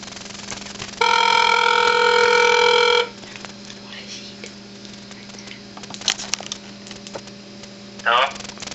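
A telephone rings on a prank call, one long electronic ring tone heard through the line over a steady mains hum, followed by quiet background noises and brief voices.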